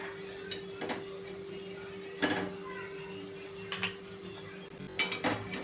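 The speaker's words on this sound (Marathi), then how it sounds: "आणि छान असं खरपूस भाजून घ्यायचं आहे मीडियम फ्लेमवरती." Kothambir thalipeeth fries in a little oil in a pan on medium flame, a soft steady sizzle under scattered clinks and scrapes of a utensil against the pan.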